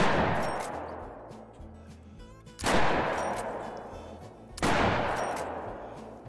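Three loud hunting rifle shots in the video game theHunter: Call of the Wild, each a sharp crack whose echo rolls off slowly, spaced about two seconds apart, with faint ambient tones between them.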